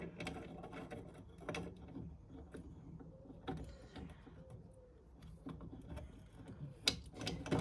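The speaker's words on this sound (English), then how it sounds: "So what we'll do is we'll use an adjustable spanner." An adjustable spanner works loose a nut on the brake booster of a Datsun 1200, giving quiet, irregular metallic clicks and ratcheting taps spread across the clip, close by in a fairly quiet garage.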